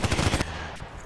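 Rapid bursts of mortar and gunfire in a shooter video game while working through a sniper task with an HK417, a loud clattering volley for under half a second, then a quieter, fading tail.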